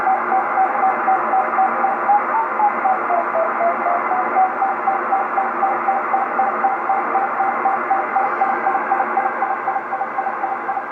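Mysterious signal on the 10-meter amateur radio band: a steady stream of short, evenly spaced dits in a single tone, riding over constant receiver hiss and hum, sustained and moderately loud with no talk.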